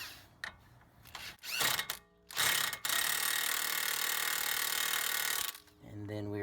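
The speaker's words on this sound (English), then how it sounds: "We're going to tighten that axle nut up" A power ratchet tightens the CV axle nut on a Dodge Grand Caravan, short bursts of buzzing rattle followed by a sustained loud whirring run of about three seconds, with a voice briefly near the end.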